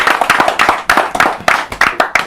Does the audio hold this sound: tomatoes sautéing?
no